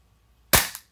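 A Marui G17 airsoft pistol with a Volante blowback unit and aluminum slide and barrel fires one sharp, loud, close crack, followed by a quick decaying metallic clack of the slide.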